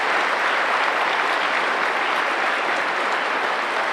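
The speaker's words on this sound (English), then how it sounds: "Let's give a round of applause to all of the parents, family members, and friends in attendance tonight" Graduation crowd at the Whitehall senior ceremony applauding parents, family and friends, a loud, unbroken hiss of many hands clapping in a large venue, steady from start to finish.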